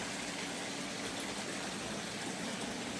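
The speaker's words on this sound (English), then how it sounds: "A creek." Steady, soft rushing of creek water flowing continuously, an even broadband wash heard alone without any voices or breaks.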